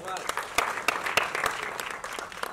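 An audience at a debut album event for a singer breaks into scattered applause, with sharp individual claps standing out over a wash of clapping and a voice talking through it.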